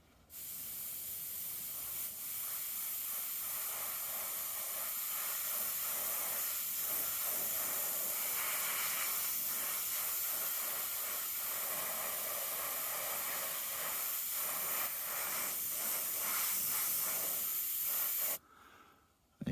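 Airbrush spraying XF78 wooden deck tan paint onto a 1/48 scale model propeller gives a continuous close hiss that holds steady for most of the stretch, then cuts off near the end.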